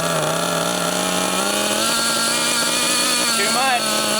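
A gas-powered Losi LST XXL2 1/8-scale RC truck engine runs at a steady, loud buzzing idle close by, briefly revving near the end, while a person talks over it.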